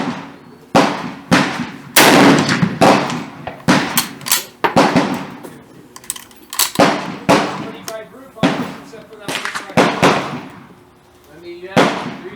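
A French Berthier carbine chambered in 8mm Lebel fires outdoors in a series of sharp, loud reports at irregular intervals, with voices talking between the shots.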